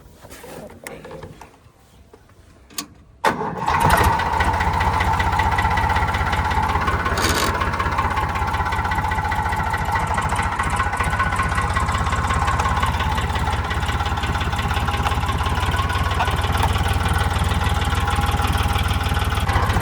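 A Sonalika tractor engine cranks, catches after a few quiet seconds and settles into a loud, steady diesel idle with a knocking, mechanical clatter that runs to the end.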